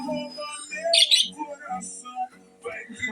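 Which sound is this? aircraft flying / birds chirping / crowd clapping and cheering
birds chirping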